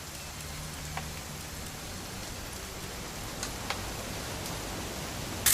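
Rain falls in the video game What Remains of Edith Finch as a steady, hissing downpour with a few distinct drips and a sharp tap at the end.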